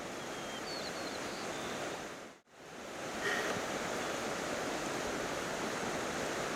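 A river rushes in a dense, steady wash of flowing water that cuts out briefly midway and then resumes just as strongly, with no voices.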